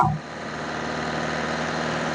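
A Nissan Micra car engine runs steadily and close by after a brief opening burst, holding a constant rough hum with no talking.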